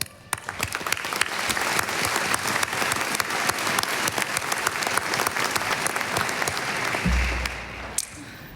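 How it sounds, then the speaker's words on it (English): A large audience claps steadily and densely at a 2023 dental medicine diploma ceremony. The sustained applause lasts about eight seconds before dropping off near the end. "give yourself a big round of applause."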